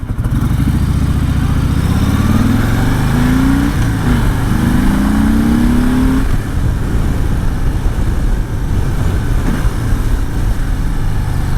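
A 2020 Harley-Davidson Sport Glide engine runs loud and close, rising through two revs before falling back to a rough, throbbing idle.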